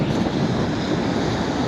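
Strong, gusty wind buffets the microphone on a beach at night, a loud continuous roar with surf blended in beneath it.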